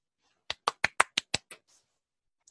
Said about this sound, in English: That was either a round of applause or a spastic bat.